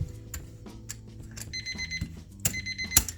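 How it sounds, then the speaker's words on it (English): A game timer alarm sounds at a craps table, ringing in short repeated electronic tone bursts, with two main bursts over a clattery background of chips and dice, with no talk. "And there's the timer, which means we finished our game."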